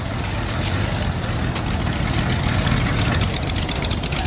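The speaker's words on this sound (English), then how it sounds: "Cool hot rod just parked right here too." A hot rod engine idles steadily at an outdoor classic car show, a deep continuous rumble that holds at an even level throughout with no talk over it.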